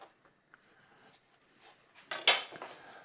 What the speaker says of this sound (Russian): Аккуратно выкладываем на тарелку.